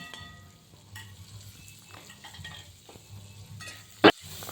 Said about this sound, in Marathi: आपल्याला कांदा व्यवस्थित भाजून घ्यायचा आहे